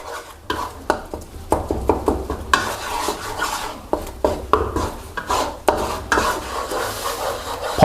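A spatula scrapes and stirs thick green curry paste in a pan, producing repeated rhythmic scraping strokes with a faint sizzle underneath.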